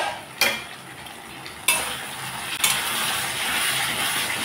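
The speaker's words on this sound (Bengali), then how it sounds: "ভালোভাবে কষিয়ে নিলাম" A metal spoon scrapes and stirs spices frying in oil in a pan for a fish curry with jackfruit-seed fish and taro stems. Three sharp stirring clatters cut through a constant close sizzle.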